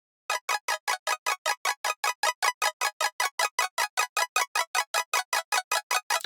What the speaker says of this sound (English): it's arpeggiating these like weird chords things